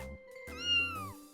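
A recorded cat meow is played back: a single drawn-out, tonal meow with a rising then falling pitch, clear and close over a low electronic hum.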